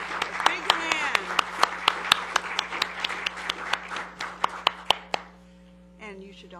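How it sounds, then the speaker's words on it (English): A city council meeting audience in Loma Linda bursts into applause: dense, rapid clapping for about five seconds that stops abruptly, leaving a low hum and a brief voice. "Okay, now is the time for applause. A big hand."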